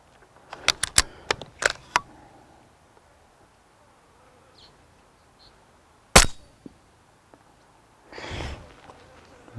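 Rifle shots at a long-range shooting range with a BRK Ghost high-power rifle: a quick cluster of four or five sharp cracks early on, then a single loud crack midway and a softer distant report near the end, with quiet outdoor air between.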